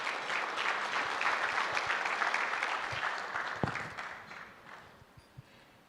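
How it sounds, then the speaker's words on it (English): An audience claps for a university instrumental band as it comes up at an anniversary gala, dense applause that holds steady and then thins out, leaving a few scattered late claps and faint thuds. "Please give them a round of applause as they come up."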